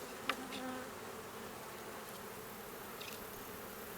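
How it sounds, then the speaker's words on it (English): Honeybees buzz steadily inside an opened hive during an inspection, a soft continuous drone close by with a few louder individual passes. "the level of buzzing hasn't changed at all"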